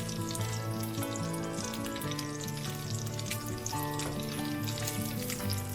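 Bacon frying in a pan for a bucatini carbonara, a steady, loud, continuous sizzle and crackle with no voices over it.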